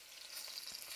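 Garlic cloves, onions and leek frying in a hot pan, a steady bright crackling sizzle filling the short moment, with no voices.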